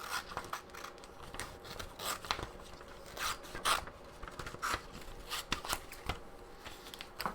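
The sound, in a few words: scissors fussy-cutting paper for a magazine collage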